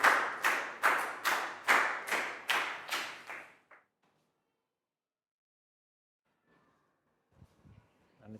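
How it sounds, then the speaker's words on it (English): Classroom applause for a pupil in a Year 4 science lesson, about eight evenly spaced loud claps in a steady rhythm lasting a few seconds. Near silence follows, then faint shuffling noises. "High five and a big round of applause for Chu."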